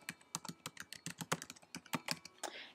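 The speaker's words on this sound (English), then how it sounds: "Type in your email address" An email address is tapped out on a computer keyboard, a quick, uneven run of crisp close keystrokes, quiet and alone without any talking.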